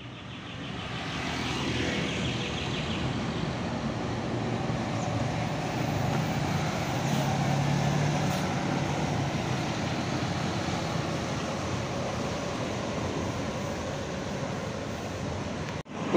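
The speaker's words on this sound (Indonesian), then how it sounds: "Ini bus pariwisata ya." A tourist coach rumbles steadily at the entrance of Purabaya bus terminal in the morning, its engine a loud, continuous drone that swells slightly midway and holds with no voices over it.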